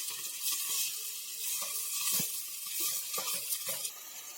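Gongura leaves frying in a pan, a steady close hiss and sizzle with scattered crackles and soft stirring scrapes throughout.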